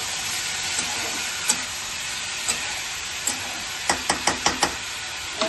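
Chilli, coriander and cumin powder, with turmeric, sizzle loudly in a hot pan. A close, steady hiss is punctuated by sharp spatula clicks, sparse at first and then a quick run of taps near the end.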